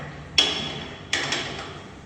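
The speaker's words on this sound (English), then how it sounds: "So now we're going to spanner tight this" A spanner tightens firefighting standpipe hose connections, giving two or three close, ringing metallic clanks over a low background hum.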